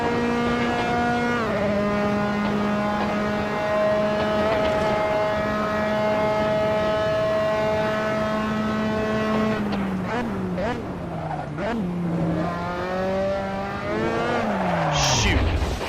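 Dallara F3 open-wheel race car in the Assetto Corsa sim racing game, its engine whine climbing and falling in long stepped gear changes and sweeping through downshifts near the end, loud and continuous with no talk.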